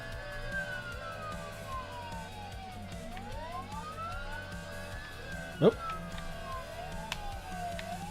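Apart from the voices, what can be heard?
police car sirens in a game jam video game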